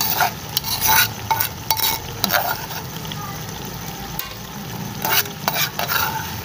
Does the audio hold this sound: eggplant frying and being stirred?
yes